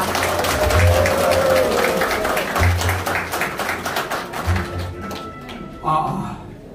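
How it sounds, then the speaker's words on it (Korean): Audience applause fills a campaign office opening for a Goheung county governor candidate, a dense steady clapping texture with a few heavier thumps, mixed with voices and a microphone announcer throughout. "여러분들의 뜨거운 박수로 모시겠습니다"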